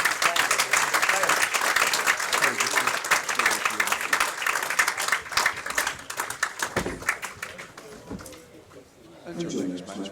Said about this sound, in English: give both players a round of applause.